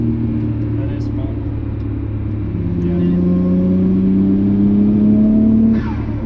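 A Nissan R32 GT-R's all-wheel-drive inline-six pulls hard in fourth gear under acceleration, its droning pitch climbing steadily, with wind and road rumble behind it.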